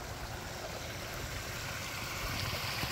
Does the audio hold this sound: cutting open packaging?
no